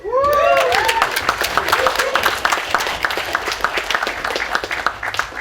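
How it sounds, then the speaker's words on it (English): A GDC talk audience cheers with whoops, then breaks into dense applause that continues at a steady level, with a few individual claps standing out near the mic. "let's get one cheer for Owen for the kickstarting this as well"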